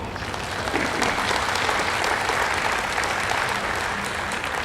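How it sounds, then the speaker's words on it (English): A crowd at a get-out-the-vote campaign rally in Santa Barbara gives campaign volunteers dense, steady applause that rises quickly and holds at full volume throughout, with no voices on top. "Let's give them a round of applause."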